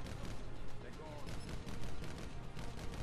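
Auger rapid-fire weapon in Call of Duty: Black Ops 4 blasting in steady, dense bursts, loud and continuous with game noise and a voice talking over it.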